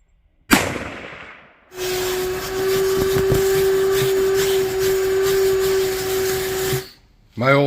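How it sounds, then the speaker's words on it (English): An old, dying vacuum cleaner drones steadily with a strong whine for about five seconds after a sharp bang, then cuts off abruptly, with a brief voice at the very end. "My old vacuum is dying."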